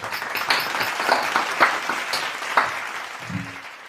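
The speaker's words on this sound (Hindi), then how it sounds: "दोस्तों मैं चाहता हूं कि झकास बॉलीवुड में जोरदार तालियों के साथ रियाज इंडियन साहब का स्वागत है।" A studio audience gives loud applause to welcome comedian Riyaz Indian onto the Jhakaas Bollywood show. The clapping swells in bursts, fades toward the end, and a voice begins briefly at the close.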